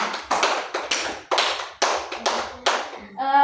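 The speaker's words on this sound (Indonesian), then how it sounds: "Tepuk tangan dulu untuk kita semua." A classroom of students claps in a rhythmic patterned clap, sharp bursts in regular groups, close and loud, with a voice speaking briefly at the end.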